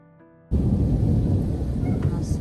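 A thunderclap breaks in suddenly during a thunderstorm in Canada, a loud, broad rumble that rolls on and slowly fades under steady noise, after a faint quieter stretch.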